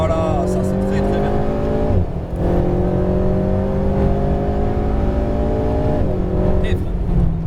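Alpine A110R engine revving and accelerating on a race track, a steady loud engine tone rising in pitch, dipping briefly twice as the driver lifts, then building again, with an instructor's voice over it.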